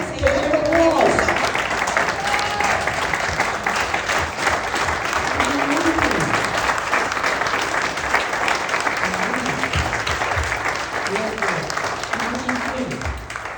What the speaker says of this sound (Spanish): Why don't you stand up and give the Lord an applause